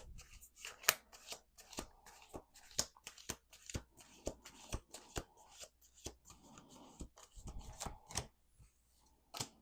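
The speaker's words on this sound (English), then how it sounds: "Let's do one more shuffle." Tarot cards are shuffled close up in quick riffling bursts and crisp slaps, an irregular run of snapping flicks and soft rustles with no talking.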